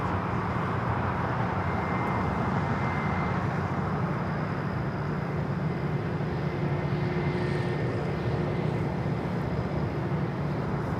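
An Airbus A320 airliner lands on runway 25 left at LAX, a loud, continuous jet engine roar with a broad rumble and a faint high whine that hold steady throughout.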